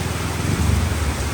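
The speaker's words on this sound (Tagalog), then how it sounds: "Grabe, ang buhos ng ulan." Heavy rain pours in a dense, steady hiss with a low rumble beneath it, loud and unbroken.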